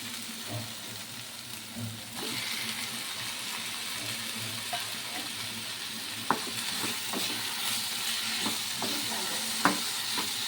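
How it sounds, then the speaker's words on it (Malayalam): Tomatoes frying in a pan for a home-cooked chicken curry, a steady close sizzle with scattered spoon scrapes and taps as they are stirred, a couple of sharper clinks standing out near the end. "ഇനി ഇതിലേക്ക് തക്കാളി ഇടാം."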